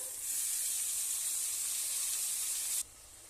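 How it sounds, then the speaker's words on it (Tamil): Half a kilo of mutton sizzles in a pan of sautéed onion, ginger-garlic and turmeric masala, a steady bright frying hiss close up that cuts off abruptly near the end, leaving a quieter background. "மட்டன் சேர்த்து நல்ல மசாலாவில் குக் ஆகட்டும்"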